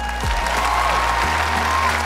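An audience at a Vietnamese dating show claps in loud, continuous applause for a couple, a dense close rush of many hands filling the whole short stretch.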